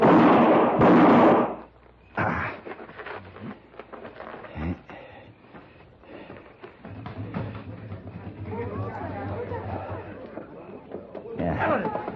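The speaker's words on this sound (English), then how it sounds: "Somebody took a shot at me." A gunshot in a 1960 Western radio drama cracks loudly near the start, a sharp burst followed by quieter thuds and movement, then people talk over faint background noise.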